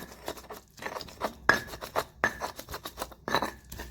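Seasoning is ground in a stone mortar with a pestle, producing short gritty rasping strokes in an irregular rhythm with occasional sharp clinks of stone, close and fairly quiet.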